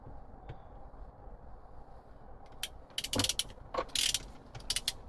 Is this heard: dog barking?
no